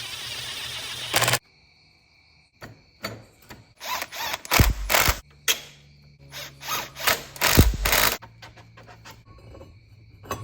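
A hub being bolted back onto the axle of a 2005 Arctic Cat 400 4x4 ATV, heard as a run of close ratchet clicks, bursts of tool whirring and metallic handling noises separated by short quiet gaps.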